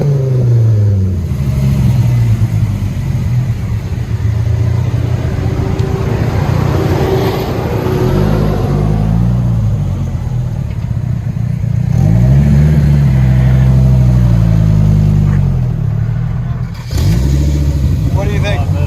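A 1994 Dodge Viper with an 8.0L V10 and Flowmaster side exhaust idles loudly, then revs again and again. Each blip climbs and falls back to a deep burbling idle, with people talking over the engine.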